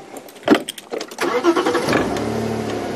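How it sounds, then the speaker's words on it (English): A safari vehicle engine cranks and catches after a few clicks and rattles during a sunrise drive, then settles into a steady low idle nearby. "Engine run."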